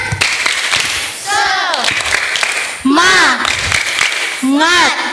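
Primary school children in Gunungsitoli, Indonesia, perform a tepuk semangat spirit clap, with loud, close, rhythmic group clapping woven with shouted, chanted voices in repeating bursts.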